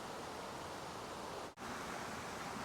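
Waterfall beside a bridge on the Longs Peak trail in Rocky Mountain National Park, a steady broad rushing hiss of falling water, close and constant, with a very brief dip partway through.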